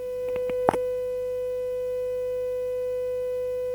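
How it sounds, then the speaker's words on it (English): A 500 Hz tone plays from a small speaker driven straight from an oscilloscope with no amplifier, a quiet, steady pure hum lasting throughout after a few brief clicks near the start. "I can change the tone, so move it to 500 Hertz maybe."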